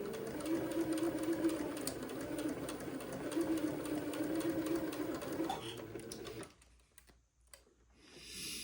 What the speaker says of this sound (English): as I sew.